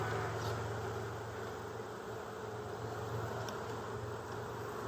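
A new honey bee hive in Tennessee in October, with dense continuous buzzing from many bees close by, a steady droning hum running through the whole stretch and no talking.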